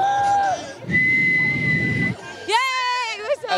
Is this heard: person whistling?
yes